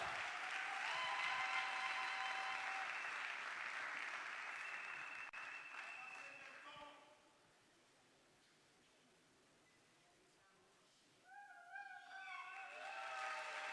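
An audience applauds prize winners at an award ceremony, a loud, dense wash of clapping that fades out after about seven seconds, then near silence before a voice and light noise return.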